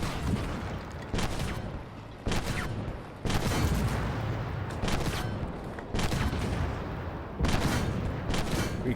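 Tank cannon fire in the online tank game Armored Warfare, a run of heavy booming shots about every second, loud and close, with rumbling battle noise between blasts and no talk.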